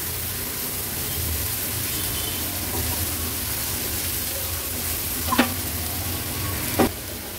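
Onion with ginger-garlic paste sautéing in oil, a steady close sizzle with soft stirring and two brief spoon clinks against the pan toward the end.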